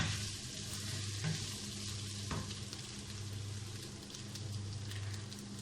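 Beef masala sauce frying in a pan: a steady, close sizzle and crackle with a low hum beneath it, continuous and even throughout, with no talking.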